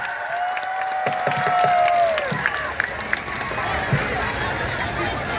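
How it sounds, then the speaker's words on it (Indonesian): A crowd at the closing ceremony of the 19th Gawai Naik Dango festival in Sambas Regency applauds in a sustained broad patter, with a loud voice over it and a thin whistling tone early on. "Tepuk tangan yang meriah."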